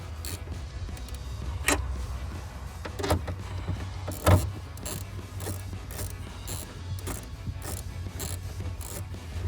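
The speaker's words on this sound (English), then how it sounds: "Now I'm going to tighten the 11 millimeter ones up." A ratchet with a thumb wheel add-on tightens 11 mm nuts while tail lights are fitted on a 1999-2004 Mustang, giving soft close clicking and rubbing in irregular bursts over a low hum, with no talking.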